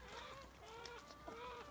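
Beakless hens cluck and murmur while pecking at tomatoes beside a pig, soft overlapping rising calls in short bursts, quiet and close with no talking.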